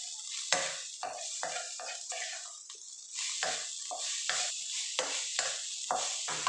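Egg fried rice with dark soy sauce being stir-fried in a pan: repeated scraping strokes of a utensil over a low sizzle, coming in a quick, irregular rhythm, close and clear, with no talking.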